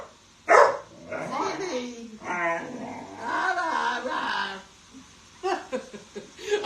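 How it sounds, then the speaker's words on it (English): A dog barks in short bursts mixed with yips and whimpering sounds, fairly close in an indoor home setting, with pauses between outbursts. "it's really funny when she barks, Larky just puts his head up and looks in th"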